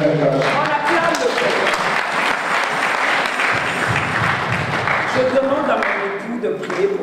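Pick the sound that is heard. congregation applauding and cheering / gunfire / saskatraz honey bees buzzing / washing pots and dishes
congregation applauding and cheering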